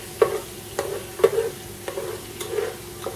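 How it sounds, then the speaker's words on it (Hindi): Ginger and garlic sautéing in oil for a lamb shank dish, a steady close sizzle broken by about half a dozen sharp scraping spoon strokes at a regular rhythm, with no voices. "इसी ऑयल में अदरक लहसुन डाल के थोड़ा सा भूनें"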